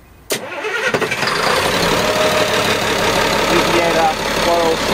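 A Princess 406 Riviera boat engine starts in the engine room with a sharp click, then cranks and catches into a loud, steady rumbling idle that fills the space.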